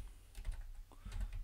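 A brief, faint run of computer keyboard typing, a few soft taps in two short bursts against low background noise.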